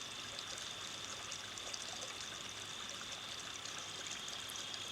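Water in Moore's Run, a buffered creek, rushes and trickles continuously in a steady, even hiss, with no voices.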